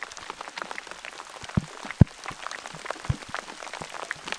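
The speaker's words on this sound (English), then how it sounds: "the rain just attacked the ground there for a second" Sudden brief flash shower in remote Canadian wilderness, raindrops pattering densely on the ground with a few louder close drops standing out, alone without talk.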